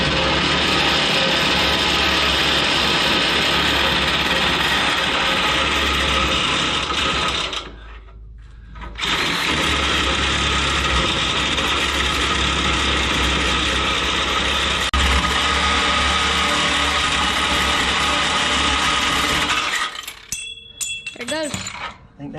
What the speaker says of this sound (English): I can get a blade right underneath this rubber bushing, and then we'll cut it